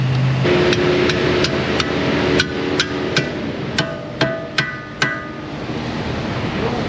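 An impact gun works a strut bolt loose on an Acura, a series of sharp rattling bursts repeating several times in an outdoor shop setting.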